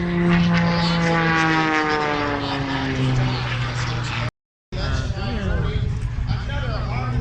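Aerobatic propeller airplane performing at the Abbotsford Airshow 2023: a loud, close engine drone with shifting pitch as it maneuvers, cut by a brief dropout, with an announcer talking over it.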